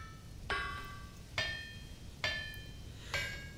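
Metal being hammered in the Vintage Story video game: four evenly spaced, ringing strikes, each with a bright metallic decay, heard alone over a low background hiss.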